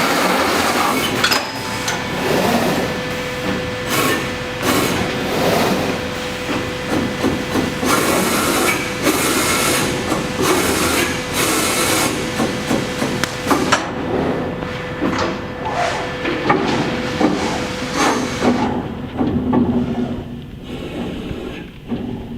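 An LVD Strippit 1500H30 hydraulic punch press with Fanuc 180i control runs in a workshop, giving a steady mechanical din with repeated knocking punch strokes and hissing hydraulics throughout, thinning out near the end.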